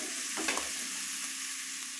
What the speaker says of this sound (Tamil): இந்த மாதிரி திருவி போட்டு நல்லா கிளறி விடுங்க.